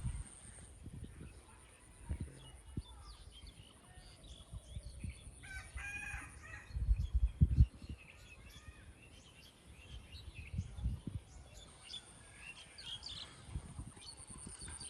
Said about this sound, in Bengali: মোরগের ডাক আপনারা অবশ্যই শুনতে পারছেন।